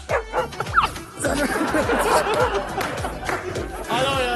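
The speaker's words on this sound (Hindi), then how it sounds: "नहाते नहाते बाहर से एक कुत्ता भौंकता है।" A dog barks outside in a Hindi TV serial bathroom scene, several loud yapping barks in quick bursts mixed with voices and chatter.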